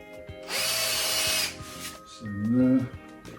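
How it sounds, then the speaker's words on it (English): A power drill countersinks screw holes in wood during a bathroom countertop and window board build, a loud steady whir for about a second, with a voice talking before and after. "I've got the first two, quickly countersink them"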